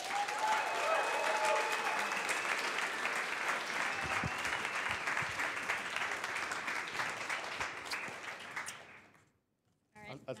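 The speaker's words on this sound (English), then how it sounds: "a big round of applause for Kati" A crowd at a startup demo day claps for a speaker in a long, even burst of applause with scattered cheers, close and full, fading out near the end before a brief sound returns.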